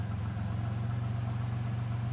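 A turbocharged rat rod's engine idles with a deep, steady low-pitched rumble and an even pulsing beat, close and loud, with no voices.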